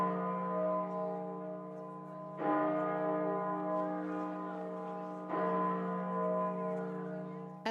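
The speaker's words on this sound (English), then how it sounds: "At the Minster in York, the bells tolled 99 times, one for each year of the Duke's life." York Minster's church bells toll in slow, resonant strikes with long ringing decay, each stroke swelling over the lingering hum of the last, heard alone without voices.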